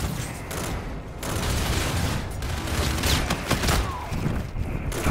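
Pistol shots crack in Call of Duty: Infinite Warfare, arriving as a scattered string of sharp reports amid busy game noise, with a player speaking over the action.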